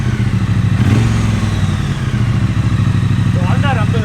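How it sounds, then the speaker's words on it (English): A stock-exhaust Triumph Street Twin motorcycle idles loud and close with a steady, lumpy thrum that runs the whole time, and people talk over it. "And that's stock exhaust."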